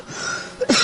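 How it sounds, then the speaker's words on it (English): One short, close cough from a commentator during a racing broadcast, bursting out near the end after a moment of quiet breathy noise. "I'm about to cough"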